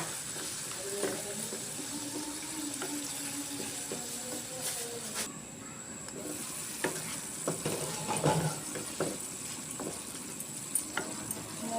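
Red chili is stir-fried in a pan for an okra and shrimp dish. A continuous soft sizzle runs under repeated scraping and clinking of a spatula, growing busier toward the end, with no voices.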